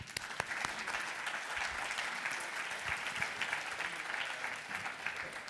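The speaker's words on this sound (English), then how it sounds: "May I have a round of applause for our panelists" An audience at a panel discussion on equality and integration gives the panelists a round of applause, steady dense clapping from many hands that holds evenly throughout at moderate, slightly distant loudness.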